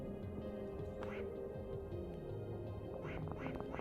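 A goose in the video game Vale's Echo quacks in short honking bursts, a few near the start and a quick cluster near the end, mixed under a steady game soundtrack and continuous talking.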